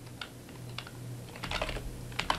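Typing on a computer keyboard, with soft irregular keystrokes close by that become quicker and louder toward the end, heard over a low background hum with no voice.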